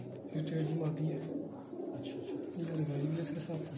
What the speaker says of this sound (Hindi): ये दोस्तों बड़ा रामपुरी कबूतर है इनका।